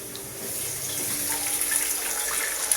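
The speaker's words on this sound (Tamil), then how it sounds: "வாங்க நமக்கு தண்ணி ஊற்றுவோம்" Water runs steadily from a tap, a continuous splashing hiss close by with no talking.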